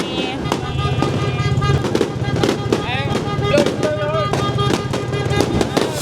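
Firecrackers and fireworks burst at a New Year celebration in the Philippines, with a dense run of sharp pops and crackles close by as people talk and shout through the noise.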